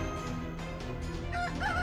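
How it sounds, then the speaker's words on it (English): A rooster crows in the Fate/Grand Order video game, a rising cock-a-doodle-doo call over steady game background sound, near and fairly loud. "Hang on, isn't that a chicken? Yes it is."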